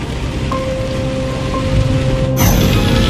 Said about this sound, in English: the skies over the airport opened up and heavy rain poured down.